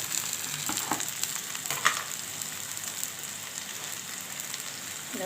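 Potatoes frying in a pan, a steady close sizzling hiss that runs throughout with a few soft stirring knocks, fairly quiet and with no talk.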